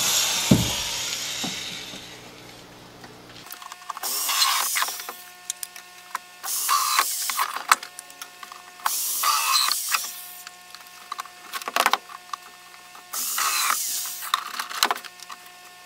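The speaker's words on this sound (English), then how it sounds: "I'm going to drill 6 holes into here." Power drill boring holes into a plastic hydroponic container, several loud whirring, grinding bursts of about a second each, separated by short pauses with faint handling sounds.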